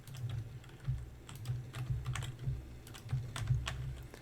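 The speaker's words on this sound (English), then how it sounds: "And this is just a lot of button clicking." Quick, close clicking of buttons during a Satisfactory game session, a busy irregular patter of crisp taps with no talk.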